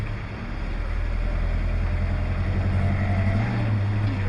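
A 1960 Dodge Polara V8 runs steadily while in need of a carburetor adjustment, a low continuous drone with a slight rise in pitch near the end, mixed with rushing wind noise and no speech.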